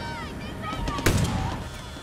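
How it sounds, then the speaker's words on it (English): Gunfire aimed at a tank in the video game Far Cry 6: a single sharp, loud blast stands out over a steady game soundscape with tonal background music. "Just keep shooting it with this thing."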